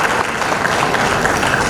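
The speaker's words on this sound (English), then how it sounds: "Please give me a round of applause." Brief, dense applause rises from the audience at an innovation summit in Ekiti, Nigeria. It forms a steady, loud wash of many hands clapping with no pauses, lasting under two seconds.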